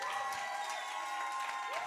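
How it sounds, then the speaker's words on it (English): Audience at a business workshop and expo applauding a performer, a short burst of dense clapping with some cheering over a sustained musical tone. "Can we please give him a round of applause,"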